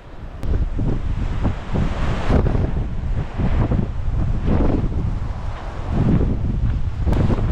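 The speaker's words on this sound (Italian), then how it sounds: "è un vento freddissimo quello che c'è veramente freddo e pungente" Strong, very cold wind buffets the microphone in continuous rumbling gusts, loud and close, with no voices.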